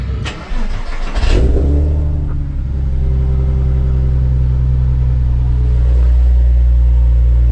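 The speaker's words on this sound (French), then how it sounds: "On redémarre le moteur, on laisse chauffer." A Porsche Boxster S 3.2L engine fires up after a brief crank and settles into a loud, steady idle as it warms up, its deep drone close and continuous to the end.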